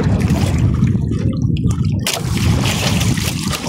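Strong offshore sea current rushes and sloshes against a small fishing boat, a loud, close, continuous wash of gurgling and splashing water with no voices.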